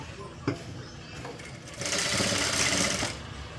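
A sewing machine stitches piping onto a blouse, starting with faint clicks and then running in a close, rapid mechanical whirr for about a second and a half before stopping.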